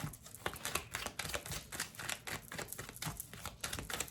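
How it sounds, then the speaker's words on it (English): Tarot cards riffled and shuffled close by, a run of quick crisp flutters and soft taps repeating unevenly throughout with no voice over them. "let's go with this one that's easier to shuffle."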